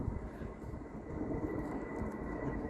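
Faint, deep jet rumble of a plane climbing away from Heathrow, a continuous low roar heard from a distance.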